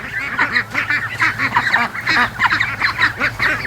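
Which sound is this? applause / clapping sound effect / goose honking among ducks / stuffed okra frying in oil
goose honking among ducks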